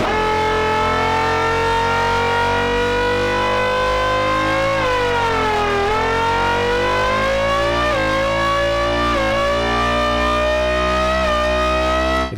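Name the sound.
synthesized formula bass, lead sound pitched up, like a race car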